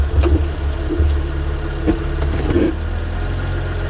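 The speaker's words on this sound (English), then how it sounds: "the noise you can hear from a bad pillar bearing" Mercedes ML with a worn drive shaft carrier bearing, giving a steady low droning rumble with faint periodic knocks over the running drivetrain, recorded up close with no talking.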